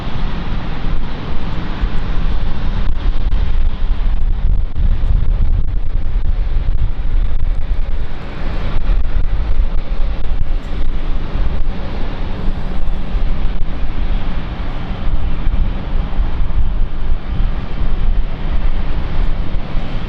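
Aircraft at London City Airport, a small city airport, heard as a steady, loud broadband roar that fills the whole stretch, mixed with wind buffeting on the microphone.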